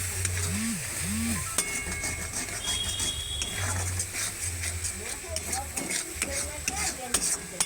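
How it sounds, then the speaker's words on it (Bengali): Spiced masala paste for chicken is stirred and fried in a pan, a steady sizzle with scraping spoon strokes. A voice talks over it, and a faint low tonal hum runs underneath. "এবার মশলাটা আরও ভালো করে কষিয়ে নিচ্ছি।"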